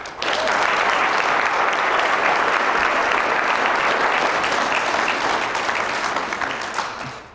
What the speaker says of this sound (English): I'll ask that you give a big round of applause